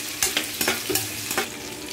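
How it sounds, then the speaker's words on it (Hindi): Onions softening in a hot pan for a Dogri-style mixed vegetable dish, with a soft steady sizzle broken by several sharp scraping stirs spaced unevenly across the moment. "फिर डाल दूंगी प्याज और इसको सॉफ्ट होने तक वेट करूँगी"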